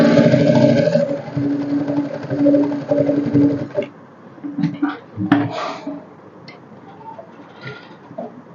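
A sewing machine stitches a jean skirt made of denim, giving a loud, steady mechanical hum for about four seconds. It then stops, leaving scattered clicks and light handling noises.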